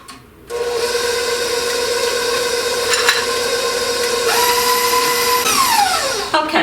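An electric mixer whirs steadily, close and loud, while churning pistachio cookie dough. Its motor whine shifts pitch and drops toward the end as it slows.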